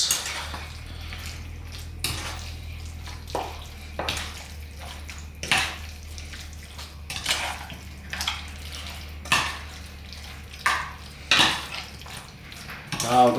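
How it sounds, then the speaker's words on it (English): A spoon stirs cornstarch-thickened sauce over lamb chops in a pan, giving irregular clinks and scrapes against the metal every second or so over a steady low kitchen hum, with no talking. "thicken up the sauce onto the lamb chops over here. Just give it a good mix."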